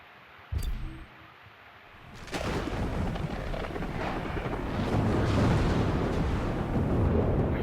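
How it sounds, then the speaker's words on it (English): A sharp crack of thunder, then a heavy, building roar of rain and rumbling storm in the racing game Need for Speed Hot Pursuit Remastered, growing louder and continuing steadily. "You guys can already hear the thunderstorm sounds."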